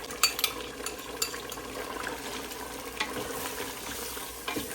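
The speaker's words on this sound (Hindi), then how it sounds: "और अब मैं इसके अंदर डालूँगा 200 ग्राम दही जो मैंने बहुत अच्छे से मिक्स कर लिया है" Yogurt being stirred into frying haleem masala, soft scraping and occasional spoon knocks over a gentle sizzle, fairly quiet and close, with no talk.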